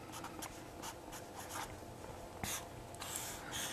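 Pen writing notes during a physics lecture on torque: steady, close scratching strokes in short bursts against a quiet room, with no talking.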